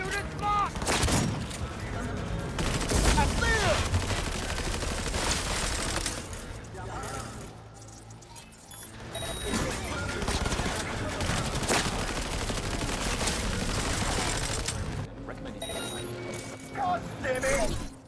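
Gunfire in the video game Cyberpunk 2077 sounds as dense, rapid volleys mixed with game effects and character voices, loud and nearly continuous through the stretch.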